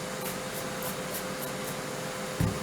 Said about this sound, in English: We'll give it a good spray.